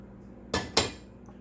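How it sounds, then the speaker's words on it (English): Keto bagel ingredients being mixed into a flour mixture in a bowl, with two quick clinks of a utensil against the bowl close by in a quiet kitchen. "I am actually going to dump this in my flour mixture and kind of mix that together."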